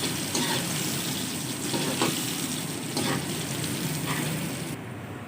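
Sliced onions, three of them, sizzle and fry steadily in a pan until golden, a dense continuous crackle that stays even throughout with faint stirring scrapes and no voices.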